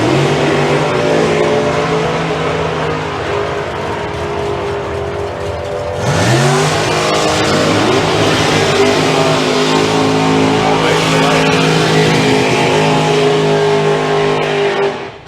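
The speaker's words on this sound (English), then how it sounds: "And Dave Evans, this is a 7-second car, but starting in an 804, we like to see him break out." Drag racing cars roar down the strip at Santa Pod Raceway during a summer nationals meet, a loud sustained engine drone that surges sharply midway as another car revs hard, continuous and close with no pauses.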